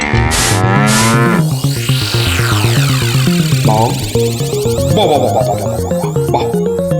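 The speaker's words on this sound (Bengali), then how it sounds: "কি চমৎকার ষাঁড়, কি নধর দেহ" A plump cartoon bull lets out long, loud, drawn-out moos over a busy animated music score, the lowing rising and falling in sustained tones for several seconds.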